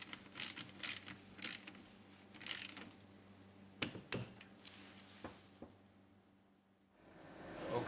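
A ratcheting torque wrench clicks in short bursts while tightening a lithium-ion cell connection to 14 newton meters, followed by a few sharper isolated clicks, then the sound fades to quiet room tone.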